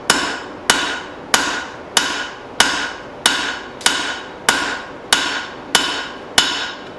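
Hot steel is hammered while forging the bevels on tomahawks. Ten loud, evenly spaced ringing blows land about every two-thirds of a second, each with a short metallic decay.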